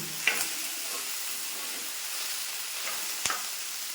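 Okra fries in a pan with a steady, close hiss of oil, broken by a couple of sharp spatula taps against the pan; no voices.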